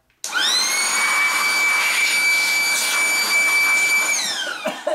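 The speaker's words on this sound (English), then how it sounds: "I'll get the blower on. This is going to be a bit noisy" An air blower roars as it blows dust out of a PS4 console fan. The loud, steady rush of air carries a whining tone that rises after a sudden start and sags near the end, with no talking.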